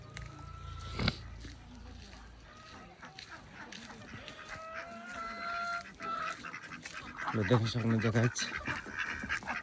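Ducks quack in short honking bursts outdoors in snowy Rukumkot, Nepal, the calls growing louder and clustered near the end while someone talks over them throughout.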